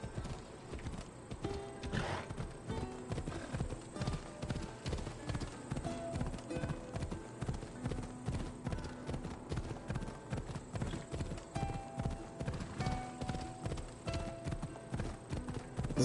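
Horse hooves clip-clop at a steady trotting rhythm in Assassin's Creed Odyssey on PS4, with an occasional whinny over faint background game music.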